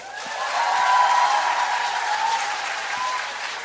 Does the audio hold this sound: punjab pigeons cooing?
no